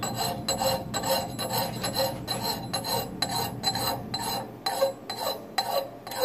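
A hand file is draw-filed along the bevel of a steel wedge axe, making a series of short, rhythmic rasping strokes with faint metallic ringing, close and fairly quiet, with no talking.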